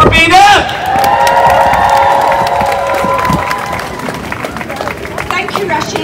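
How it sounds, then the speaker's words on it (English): At a pro-Palestinian protest in Leeds, the crowd claps, cheers and whoops loudly outdoors, with shouting voices mixed in and the clapping continuing throughout. "Big shout out and round of applause for Sister Rabina."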